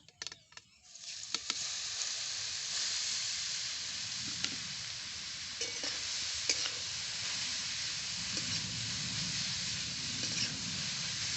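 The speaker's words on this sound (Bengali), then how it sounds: "ঘি গরম হয়ে গেছে এর মধ্যে আমি দেব গ্রেট করা গাজর" Grated carrot hits hot ghee for carrot halwa and sets off a steady, close sizzle and hiss that runs the whole time, with a few clinks and stirring scrapes on top and no talking.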